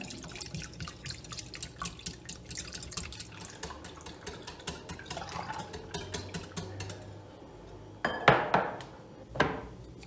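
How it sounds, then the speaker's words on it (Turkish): Milk pours into a mixing bowl holding two eggs for crepe batter, with a steady liquid trickle and splashing, light clinks of the bowl, and two louder splashy bursts near the end. "Bir su bardağı sütümü ekliyorum."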